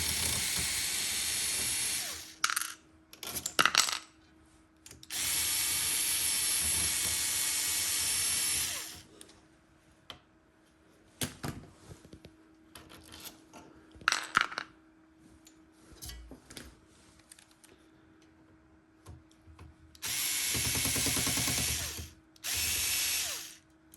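A cordless screwdriver fitted with 1/4-inch bits whirs in several separate bursts while a 3D printer is taken apart, some long runs and some brief spins, with quiet gaps between.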